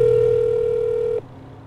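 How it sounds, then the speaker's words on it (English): A phone call being placed to a number in a tax scam: a steady, loud ringback or dial tone holds for over a second, then cuts off abruptly, leaving quiet line noise. "I'm going to give it a call and see what happens."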